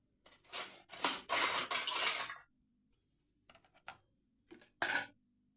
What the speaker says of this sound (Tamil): நல்லெண்ணெய் ஊற்றி இப்போ போய் மிக்ஸ் பண்ணிக்கலாம்